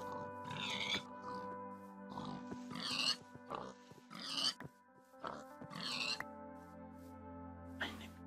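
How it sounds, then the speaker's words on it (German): Several Minecraft pigs oink and grunt in short bursts over a quiet, steady tonal background, with no talking. "Schweine ohne Ende."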